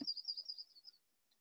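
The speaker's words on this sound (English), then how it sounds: "curved bill thrasher" A curve-billed thrasher, a desert bird, gives a quick run of sharp high chirps, clear and fairly close, fading out after about a second into near silence.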